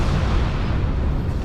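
A loud, sustained rumbling blast from an explosion in the space game Star Trek Online, a dense roar that fills the whole moment without any voice.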